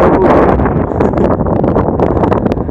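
Strong wind blows hard across the microphone at the Maliko mountain viewpoint, a loud continuous roaring buffet with gusty surges and no talk.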